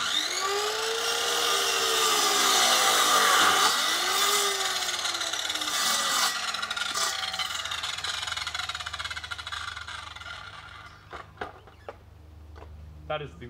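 A power tool cuts pieces of wood in a loud, whining burst with rising and falling pitch for about six seconds, then stops, leaving quieter scattered knocks and handling sounds.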